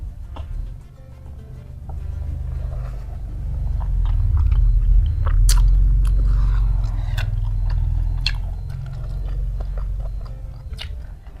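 Someone bites into and chews a crunchy fried cireng stuffed with cheese, with a run of close crisp crunches and soft chewing over a steady low background hum, and nobody speaks.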